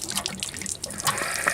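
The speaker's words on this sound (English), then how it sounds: "we're now draining our hot water heater" Water drains from an RV hot water heater after its valve is opened, a close gurgling splash that runs steadily with a few dripping spatters.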